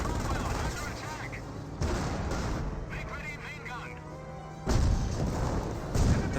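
Tank and infantry gunfire in Company of Heroes 1, a British Cromwell tank under heavy fire: dense bursts of machine-gun rattle and booming shots, loud and continuous, with a commentator talking over the battle.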